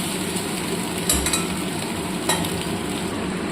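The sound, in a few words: egg and potato frying in a pan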